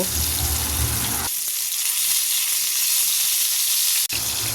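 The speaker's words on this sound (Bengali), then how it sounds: "এরপর বেগুনগুলোকে ভেজে নেব" Eggplant fries in a pan, a continuous close hissing sizzle that stays even throughout, with one brief dip near the end and no voices.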